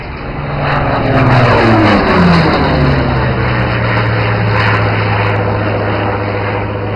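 A Hawker Tempest propeller fighter flying a display pass at an air show, its loud piston engine drone swelling and holding steady with a falling pitch as it passes nearby.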